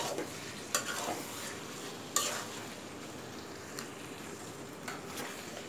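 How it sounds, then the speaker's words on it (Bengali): A spoon stirs spices and chopped garlic through mango pickle in a pan, producing a continuous soft sizzling hiss broken by a few sharp clinks of utensil against the pot. "সব কিছুকে এখন আমি ভালোভাবে একটু মিক্সড করে নিব।"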